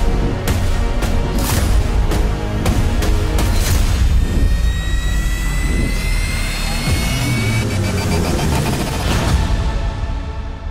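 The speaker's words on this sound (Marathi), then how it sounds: "फटाक्यांची आतिषबाजी" Firecrackers crack in a rapid string of sharp bursts, then keep popping under a continuous roar of engines and crowd noise at an election motorcycle rally in Sangli.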